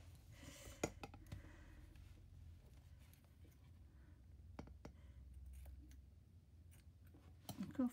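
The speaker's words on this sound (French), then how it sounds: "Encore faut-il des ciseaux qui coupent là." Scissors snip ribbon for a lace scrapbook tag in a few sharp, close clicks scattered over a quiet room, with faint handling noises between cuts.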